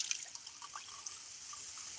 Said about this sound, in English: All right, then we fill up that water.